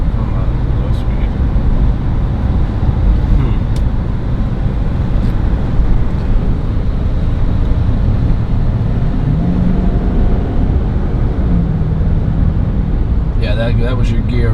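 A 2019 GMC Denali 3500HD pickup accelerates hard from low speed, its loud engine roar rising steadily and dipping briefly at a gear change, heard from inside the cab with wind and road noise and people talking over it.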